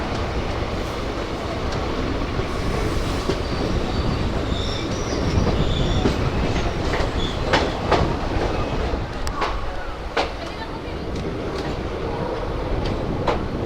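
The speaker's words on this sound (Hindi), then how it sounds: "Train arriving Saharanpur junction, platform number 5।" Haridwar–Shri Ganganagar Intercity Express pulling into Saharanpur Junction platform 5, a steady loud rumble of rolling railcars with wheel clatter, squealing wheels and repeated clicking joints throughout, no talk.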